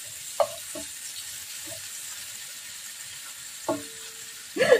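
Garlic for an Ilocano pakbet is added to a hot pan and fries with a steady, moderately loud sizzle, broken by a few sharp clinks of a utensil against the cookware.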